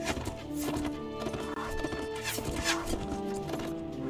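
A horse in the video game Mount & Blade: Warband gallops with rapid, loud hoofbeats and neighs amid busy battle noise, the sounds close and continuous, with no talking.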